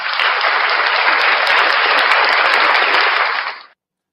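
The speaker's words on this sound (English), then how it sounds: "Hey, ladies and gentlemen, round of applause for Shenanigans." An audience gives a round of applause, a loud, dense, sustained burst of clapping that holds steady and then cuts off abruptly near the end, with no talk over it.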